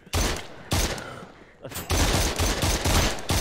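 Gunshots from a VR survival shooter fired at a trash can, a sharp single shot then a rapid string of loud, close reports with brief pauses between bursts.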